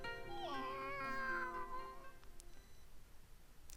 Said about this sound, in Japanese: The two of us look up and see a cat perched in a tree.